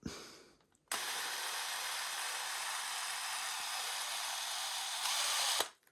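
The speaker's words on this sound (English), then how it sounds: "put number 3 in the drill" A power drill spinning a rifle bolt under test whirs at a steady high pitch for several seconds after starting abruptly, then revs slightly higher before stopping; loud and close.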